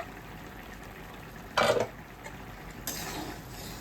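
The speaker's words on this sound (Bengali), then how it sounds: "ঢাকাটা খুলে নিচ্ছি আমি বন্ধুরা" A metal lid lifted off a cooking pot of fish curry, a short clattering scrape followed by a softer clink a moment later, close by in a quiet kitchen.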